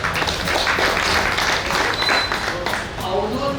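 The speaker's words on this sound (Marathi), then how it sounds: "जोरदार टाळ्या." An audience claps for actors at an event honouring senior citizens at the Shri Ram temple in Ratnagiri. The applause is steady and moderately loud, and a voice speaks over it.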